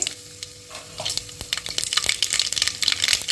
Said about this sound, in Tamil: இந்தா தாளிக்க போகிறோம். கடுகு போட்டாச்சு.